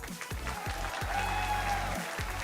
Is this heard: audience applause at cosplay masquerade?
yes